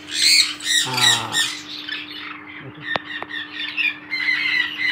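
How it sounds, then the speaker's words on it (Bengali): Three conure chicks about 20 to 25 days old give loud, harsh squawks close by, in repeated bursts with brief lulls, and a faint voice is occasionally heard beneath them. "দেখুন 3টে বাচ্চা আছে এবং সব 20-25 দিনের বয়স পাখিগুলো।"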